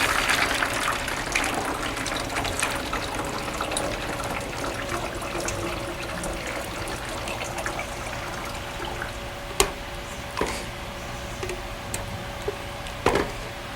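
Paper pulp being poured through a funnel into an empty plastic milk jug, a steady watery gush and gurgle lasting many seconds, with a few sharp knocks near the end.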